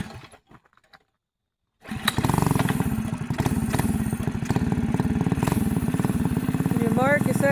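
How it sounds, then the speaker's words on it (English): A mini four-wheeler ATV's small engine catches after a short pause. It then runs loud and buzzy nearby, steady with slight revving, and a voice speaks briefly at the start. "Let's try the little four-wheeler out next."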